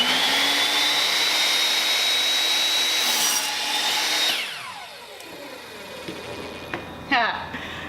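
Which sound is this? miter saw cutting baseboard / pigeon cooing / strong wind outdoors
miter saw cutting baseboard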